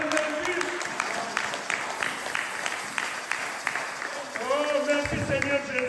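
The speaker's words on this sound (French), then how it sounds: "Applaudissez pour le Seigneur Jésus." A congregation claps during a Sunday church service, with scattered rhythmic hand claps under voices and a swell of louder response near the end.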